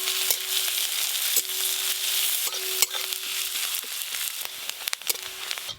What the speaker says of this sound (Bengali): রসুন আর পেঁয়াজ ভাজা ভাজা হয়ে গেল।